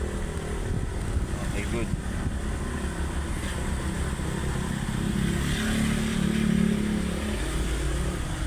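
A motorized tricycle passes on a street, its engine a steady close drone with a low rumble swelling toward the end, while people talk over it from inside a car.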